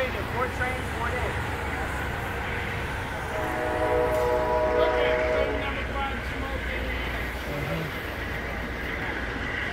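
Amtrak California Zephyr train #5 rolls into Martinez Amtrak Station with a rumbling, rattling approach and a sustained tonal horn or whistle midway, while people chat nearby.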